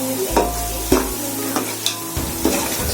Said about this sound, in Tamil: ஸோ வெங்காயம் நல்லா வதங்கணும்.